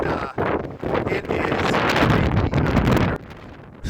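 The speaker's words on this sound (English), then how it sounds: "Yeah, no duh, it's windy." Strong wind on open plains in Arizona, buffeting the microphone in a loud, continuous, rumbling roar that gusts and dips briefly before cutting off near the end.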